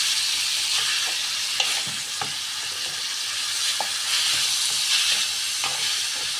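Green bell peppers fry with liver, chili paste and garlic in a hot pan, giving a constant loud sizzle broken by occasional scraping stirs.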